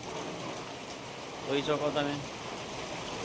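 Heavy unseasonal rain in Vadnagar falls as a steady, dense hiss throughout, with someone briefly speaking over it partway through.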